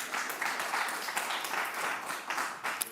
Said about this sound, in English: First of all, a little clap.